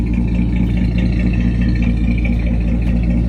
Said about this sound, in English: Sounds good. Straight six.